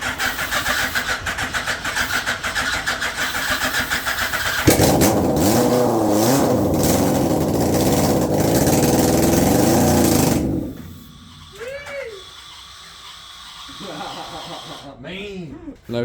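Hayabusa motorcycle engine swapped into a Corolla cranks and fires on ether, running loud and rough for several seconds before cutting out, followed by people talking.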